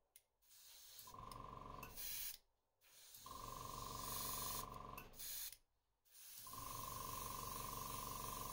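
An airbrush sprays orange paint onto a fishing lure in three bursts of steady hiss, separated by short pauses, close and fairly quiet, with no talk.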